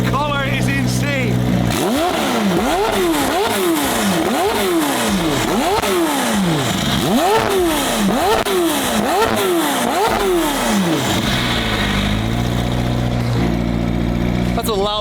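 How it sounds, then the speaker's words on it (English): Up close, a straight-piped McLaren Senna hypercar engine is revved hard again and again in a steady rhythm of rising and falling blasts, with voices talking over it. "That's a loud McLaren engine."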